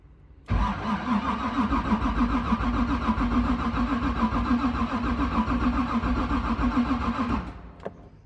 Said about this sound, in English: see if she cranks faster.